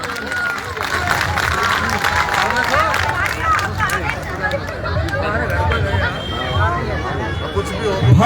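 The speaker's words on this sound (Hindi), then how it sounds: "आपसे निवेदन है एक बार उनके आने पे जोरदार तालियां बजाएं।" Crowd at a BJP ward 14 political rally in India clapping and cheering, dense scattered claps mixed with chatter and babble throughout, fairly loud and continuous.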